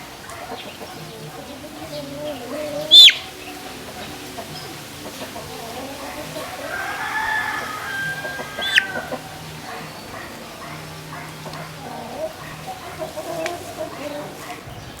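Chickens, young birds being treated for fowl pox, cluck and murmur nearby in a farmyard, with short calls scattered over the span and a person talking at times.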